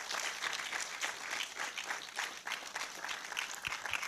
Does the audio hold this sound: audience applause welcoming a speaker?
yes